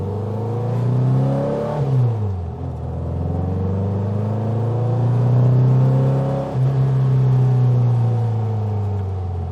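Custom 1966 Volkswagen Beetle in first gear, its engine rumbling and revving up in two rising pulls with a dip between, loud and close-up with no talking.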